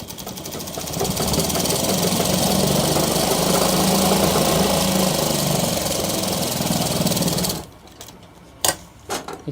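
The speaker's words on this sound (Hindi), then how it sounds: "तो इसके ऊपर चलिए दोस्तों सिलाई लगाते हैं।" A sewing machine stitches a band on a shirt, running in a steady, close whir for about six seconds before stopping, followed by a few sharp clicks and knocks.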